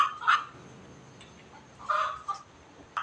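A chicken clucks nearby in short, bright bursts: one early, a cluster around the middle and a brief one at the end, with quiet between them and no talk.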